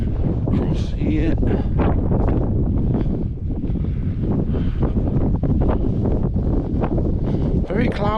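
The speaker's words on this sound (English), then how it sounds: "Very cloudy and windy today." Strong wind buffets the microphone at castle ruins on a cloudy day, a loud continuous roar with gusty rumbling and no pauses.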